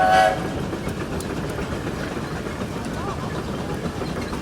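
An old steam engine runs at a threshermen's park with a steady, close, heavy rumble. A brief higher tone sounds at the start.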